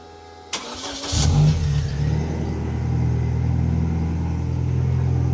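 A turbocharged VW Beetle engine cranks with a short burst of starter whine, catches and settles into a loud, steady, rumbling idle that continues throughout, with no talking.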